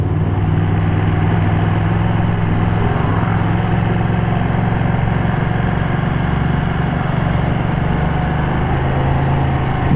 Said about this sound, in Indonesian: Nggak ada suara bro, masih knalpot standar.